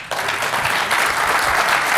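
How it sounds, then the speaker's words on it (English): A conference audience at a storage panel discussion breaks into steady, full applause, dense clapping sustained throughout at close range with no speech. "How about a round of applause for the panel?"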